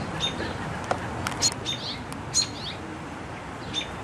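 Robins at a nest of chicks, giving a few short, high chirps and tweets spaced a second or so apart over faint outdoor background noise, with no talk.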